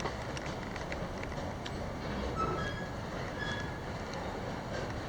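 A freight train backs up slowly with rumbling wagons, faint metallic squeals and scattered clanks, heard from a distance at low volume.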